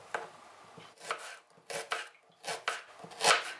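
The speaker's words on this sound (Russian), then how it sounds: "а зелень мелко режем." A kitchen knife finely chops fresh herbs on a board in quick, close, rhythmic bursts of sharp taps, with brief pauses between them.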